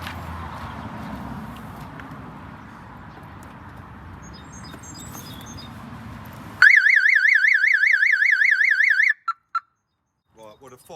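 Car alarm on a seriously neglected, non-running Subaru Impreza WRX suddenly starts up loud and close after a stretch of low background rumble, warbling in rapid up-and-down sweeps for a few seconds before cutting off, followed by a couple of short chirps.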